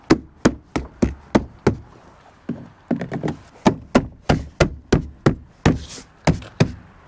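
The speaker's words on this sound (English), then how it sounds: "And our side trims just snap in." Plastic side trim panels snap into place inside a 2007-2013 Chevy Silverado 2500 cab, a steady series of sharp, close knocks and pops repeating at an even pace, loud and alone.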